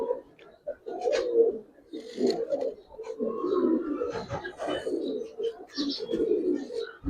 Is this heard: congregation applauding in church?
no